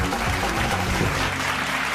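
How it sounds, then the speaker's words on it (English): Wedding guests clap together in a short, steady burst of applause that fills the whole moment at an even level, with faint low tones beneath. "And as people there applaud."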